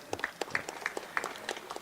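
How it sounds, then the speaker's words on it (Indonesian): Sparse, scattered clapping in a large assembly hall during a parliamentary session, a handful of distinct claps spaced irregularly at moderate distance, fairly quiet. "Tepuk tangan, boleh."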